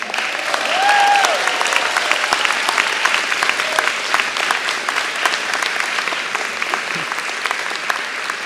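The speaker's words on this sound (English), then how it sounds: "Turn around and give them a round of applause." Steady applause from a large audience at a university graduation ceremony for public policy graduate programs, families and caregivers being clapped for. It sustains dense and even through the whole stretch, with a few brief cheers near the start.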